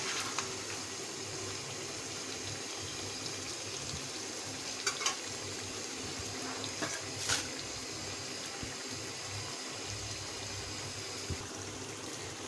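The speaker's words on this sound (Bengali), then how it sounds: "এখন আমি এর মধ্যে পর্যাপ্ত পরিমাণ পানি দিয়ে দিব ঝোলের জন্যে" Hot boiled water is poured into a pot of spicy beef curry for gravy, a steady hissing, trickling stream mixed with sizzling and a few sharp clicks; no voices.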